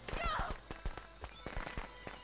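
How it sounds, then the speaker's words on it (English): Firecrackers thrown during a Friday the 13th game match pop in a quick string of sharp cracks, several bursts spread across a couple of seconds, with voices talking underneath. "they chuck firecrackers at you."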